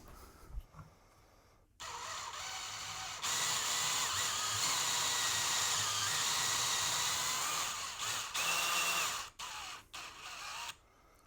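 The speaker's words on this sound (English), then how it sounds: "I'm just going to drill it and see how it goes." A power drill bores into a Les Paul guitar body in a luthier's workshop, its motor whining loud and steady for several seconds after a quiet start, then stuttering through a few short stops and restarts.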